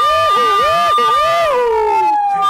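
Ambulance siren wailing with a rising and falling tone, loud and close, continuing steadily, with a voice calling out over it.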